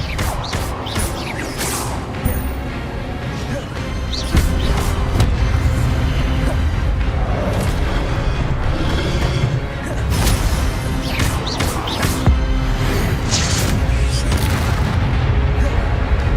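Repeated booming magic blasts and crashing impacts from Incendio and Expelliarmus spells in the Hogwarts Legacy game, irregular bursts over a dense game soundscape, with a player speaking at times.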